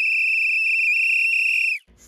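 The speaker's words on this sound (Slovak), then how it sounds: "Počujem strážcu zoologickej záhrady, ako mi do ucha píska." A single loud, steady high-pitched whistle held close for nearly two seconds, then cut off abruptly into a faint rustle.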